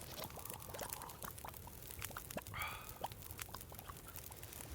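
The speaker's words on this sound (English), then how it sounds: "May as well have a drink of water" Water is drunk in a survival video game, a soft pouring, lapping patter with a brief gurgling swirl midway, quiet and close over a faint low background hum.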